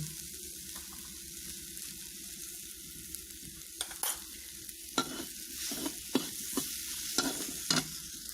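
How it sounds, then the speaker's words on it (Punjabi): Onion and eggplant fry in a pan for a homestyle raita, a steady soft sizzle running throughout while a utensil scrapes and stirs in irregular clicks and knocks, with no talking. "ਹੁਣ ਪਿਆਜ਼ ਤੇ ਬੈਂਗਣੀ ਭੱਜ ਗਈ"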